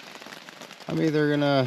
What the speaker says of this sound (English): Just kind of woke up to the sound of it raining.